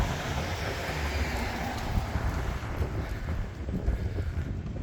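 Steady wind buffeting the microphone on Geary Street in San Francisco's Outer Richmond, a constant broadband roar with low rumbling gusts throughout, no voices.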